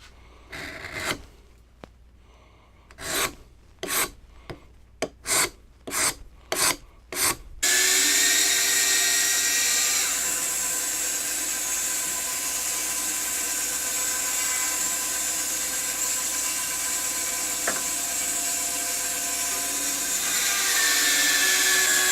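Excess wax is scraped off a wooden baby rattle: a run of distinct rasping strokes at first, then a steady, loud whirring scrape that continues to the end.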